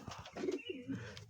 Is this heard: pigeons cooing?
yes